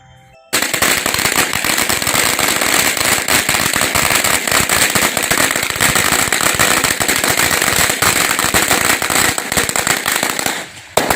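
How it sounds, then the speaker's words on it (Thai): A long string of firecrackers bursts in a dense, continuous crackling barrage, loud and close, for about ten seconds at a Chinese-Thai grave shrine ceremony, then stops abruptly. "แล้วก็ จุดประทัด นะฮะ"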